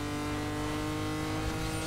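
A car's engine drones steadily at a constant pitch while driving in Need for Speed Most Wanted under a chaos mod, with no pauses or breaks.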